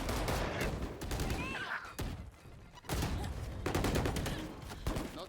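Automatic weapon fire sprays in a Valorant match during a university esports broadcast, dense bursts of shots, loud and rapid, with a caster talking over the gunfire.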